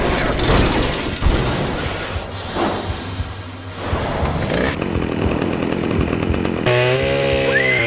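A loud chainsaw in the video game Manhunt revs and roars continuously, its pitch rising and falling, with a sharp whine in the final second and clattering impacts mixed in.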